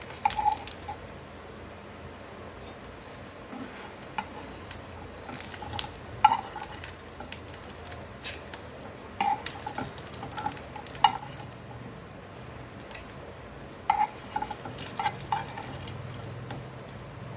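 Fried ragda patties, Indian street-food potato cakes, are lifted from a sizzling pan, with a constant frying crackle broken by spatula scrapes and metallic clinks.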